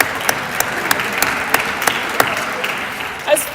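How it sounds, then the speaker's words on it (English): An audience claps steadily throughout, a dense, even patter of many hands that swells slightly near the end. "so can we get a quick round of applause?"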